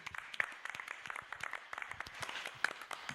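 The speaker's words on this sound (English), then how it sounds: "give yourselves an applause as well for being here" An audience at a community gathering claps in a brief round of applause, quiet and somewhat distant, the individual claps dense but soft throughout.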